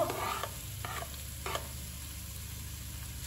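Chopped onion hits hot olive oil in a pan on a stovetop, a continuous crackling sizzle with a couple of brief scraping stirs near the start over a low steady hum.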